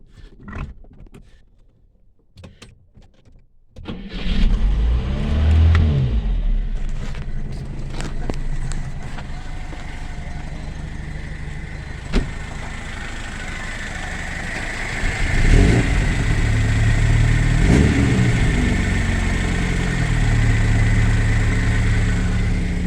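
An export-model Moskvich car engine cranks briefly, catches and starts, then runs at a steady mid-pitched idle with a revving rise toward the end, close and loud.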